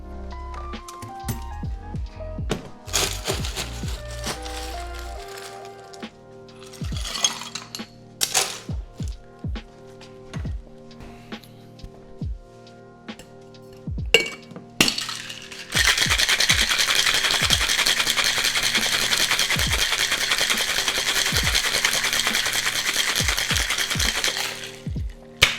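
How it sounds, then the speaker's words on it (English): Ice and cranberry juice go into a cocktail shaker for a Washington Apple drink: scattered clinks and knocks of ice being added, then a loud, dense rattling shake lasting about ten seconds, with no voices. "Let's go ahead and add ice, and we're gonna give this a shake for about 8 to 10 seconds."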